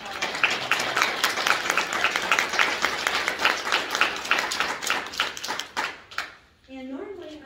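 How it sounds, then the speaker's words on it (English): Audience at a spring recital gives a round of applause, a dense patter of many hands clapping steadily for about six seconds before fading, with a brief voice heard at the end. "So if you don't mind giving Fan a round of applause."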